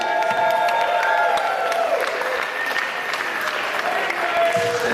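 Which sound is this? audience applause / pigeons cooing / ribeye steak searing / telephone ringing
audience applause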